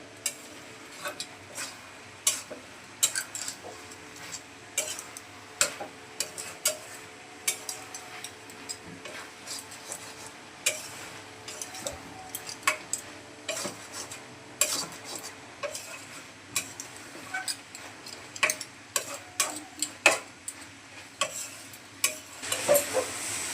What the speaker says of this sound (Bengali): এখন তরকারিটা কিছুক্ষণ নাড়াচাড়া করে নামিয়ে নেব।